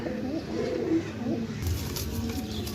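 Pigeons coo with low throaty calls at a pigeon sale, a steady murmur of birds close by while someone talks over them.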